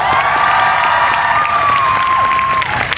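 A crowd claps steadily in dense applause, with cheering voices rising over it throughout.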